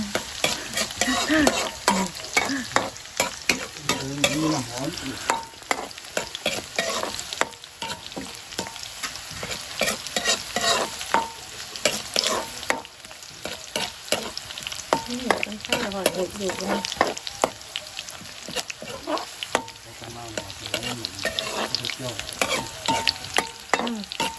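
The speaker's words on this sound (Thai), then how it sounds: "ใส่กระเทียมแล้วก็ใส่หอมแดง รอจนมันเหลืองทอง" Garlic and shallots fry in a pan in a busy, crackling sizzle, with dense spatula stirring and scraping nearly the whole time.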